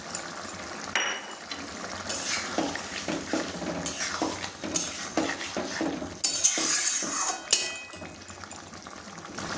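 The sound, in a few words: fried prawns added to simmering jackfruit curry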